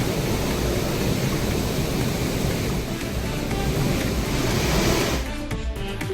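A waterfall after heavy, unrelenting rain, its flow suddenly surging to about 1500 cubic feet: a loud, dense, unbroken roar of rushing water that eases slightly near the end.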